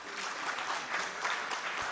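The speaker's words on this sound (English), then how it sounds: "Give him a big round of applause." An audience applauding at the close of a professional talk on GST input tax credit, dense even clapping from a sizeable room, steady and continuous throughout.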